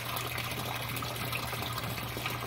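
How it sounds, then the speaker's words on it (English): Air from a compressor bubbling through air stones in hydroponic water makes a steady, even gurgle and fizz with no pauses. It runs alone and fairly quiet throughout. "air compressor like that one with a couple stones down in there bubbling"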